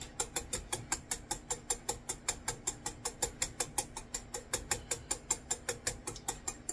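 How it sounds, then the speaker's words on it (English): A whisk beats oil into a Vietnamese-style mayonnaise aioli in a bowl, making a steady, quick run of light clicking taps, roughly five per second, close and clear with no talking. "So just keep on whisking. Add a little oil and whisk."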